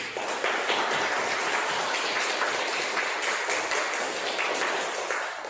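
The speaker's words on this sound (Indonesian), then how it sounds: "Tepuk tangan dulu untuk kelompok 1." Students in a classroom clap for a presenting group, a moderately faint, steady wash of applause lasting several seconds with no talk over it.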